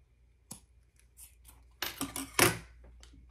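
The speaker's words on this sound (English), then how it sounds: "let's cut that excess off so you can see how I just stitched" Scissors snip off excess zipper tape on a sewn laptop case, a few short, crisp cuts close by, quiet and separated by brief pauses.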